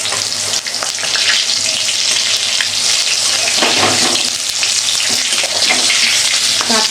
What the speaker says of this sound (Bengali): পটল ভাজা আমার হয়ে গেছে,